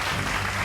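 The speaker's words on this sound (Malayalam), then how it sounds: "നല്ലൊരു കൈയടി ഏഞ്ചലിന" Applause for a student prize winner at a school award ceremony, dense and steady crowd clapping that fills the short moment at an even level.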